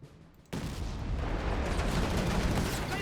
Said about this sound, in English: Panzer Grenadiers here being hit here by the Crusader tank